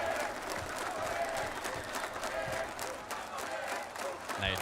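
Esports arena crowd at a Rainbow Six Siege pro league playoff match, cheering and applauding steadily throughout with a dense roar of voices and claps at a loud, continuous level.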